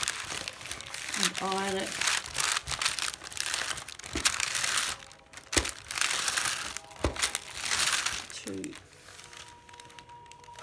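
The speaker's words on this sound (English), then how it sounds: "And then you take your foil. And I've used, put the foil down on top." Aluminium foil crinkles and rustles as it is laid over webbing on plastic before ironing, with a person talking throughout over the crackling.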